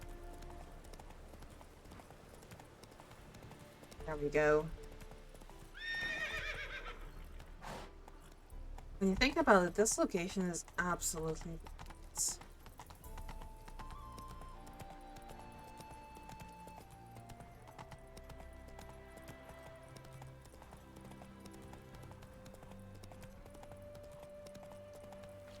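Horse hooves clip-clopping and a neigh in the video game The Witcher 3, irregular hoofbeats and whinnies mixed with game sounds, heard fairly close under someone talking.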